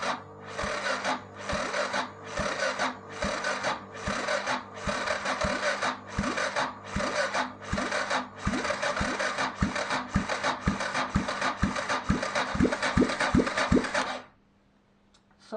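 A 1993 Yamaha XT 600 E motorcycle's electric starter cranks the single-cylinder engine in a long, steady run of rhythmic whirring compression strokes for about fourteen seconds without catching, then stops abruptly into near silence.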